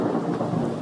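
Thunder rumbling through steady heavy rain, a dense, broad wash of sound that stays at an even level for under a second with no voices.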